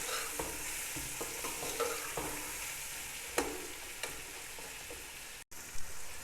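Cut potatoes frying with tomatoes in a pan for chicken pulao, a steady close sizzle with repeated scraping stir strokes throughout.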